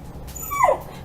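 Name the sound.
dog whimpering and barking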